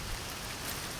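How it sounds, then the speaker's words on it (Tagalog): Heavy rain pours steadily beneath coconut trees on a flooded street, a dense, even hiss of drops on surfaces with no break and no voices. "Sobrang ulan dito"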